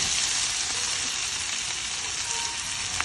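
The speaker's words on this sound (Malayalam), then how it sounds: "എന്നിട്ട് നല്ലോണം മിക്സ് ചെയ്ത് ഫ്രൈ ആക്കി എടുക്കുക" Capsicum and chicken sausage frying in a pan with pepper and salt, a steady close sizzle with faint stirring, no voices.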